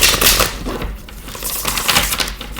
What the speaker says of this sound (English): I'm going to go ahead and shuffle one more time